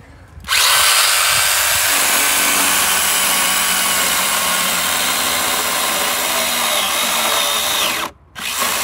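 A small Stihl cordless battery chainsaw whirs loudly and steadily for about seven seconds, starting abruptly and cutting off near the end, with a brief pause before it resumes.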